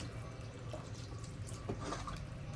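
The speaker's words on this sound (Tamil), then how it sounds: "அது தண்ணி சேர்த்துக்குவோம்." Water pours into a cooking pot of mushroom biryani with rice, a faint, continuous splashing trickle heard alone.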